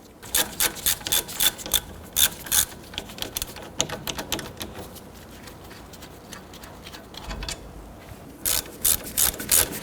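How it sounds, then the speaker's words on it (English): A ratchet turns a 17mm brake caliper bracket bolt on a 1992-1996 Toyota Camry, clicking fast and loud in repeated bursts, with a quieter stretch in the middle. "Remove the brake caliper bracket, 17mm bolt here, and one right up above."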